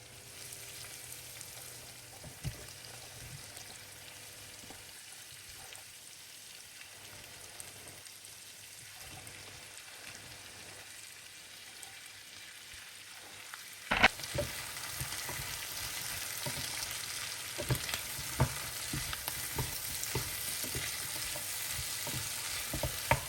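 Vegetables, tomatoes, garlic and onions fry in a pan, a low sizzle swelling sharply louder about halfway through as they hit the hot oil, then a steady crackling hiss with scattered pops and stirring scrapes.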